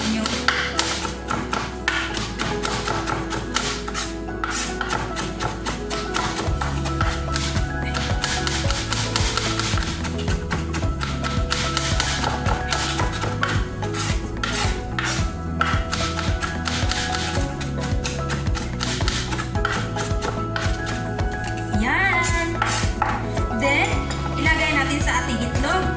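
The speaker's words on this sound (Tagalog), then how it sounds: "i-chop-chop ko siya para magiging pino-pino" A knife chops vegetables finely on a cutting board with rapid, steady tapping strokes, close and loud throughout, over a bed of background music.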